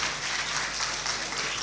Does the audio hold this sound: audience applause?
yes